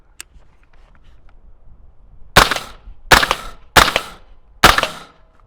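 Four sharp suppressed gunshots from a 5.7 Banshee rifle fitted with an OSS Rad 22 suppressor, fired outdoors at an irregular pace of roughly one per second, each loud crack followed by a short decaying tail.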